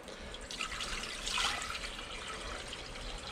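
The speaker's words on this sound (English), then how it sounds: "we're going to start with just water" Tap water runs into a cooking pot, a soft, continuous splashing trickle that swells briefly midway, quiet and close with no talking.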